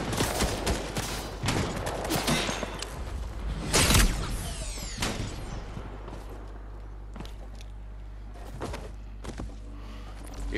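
Video game gunfire, a dense run of sharp, loud shots in quick succession early on, thinning out to scattered single cracks and clatter later.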